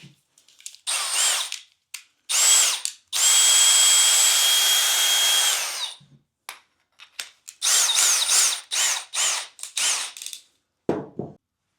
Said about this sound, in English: so I got my drill ready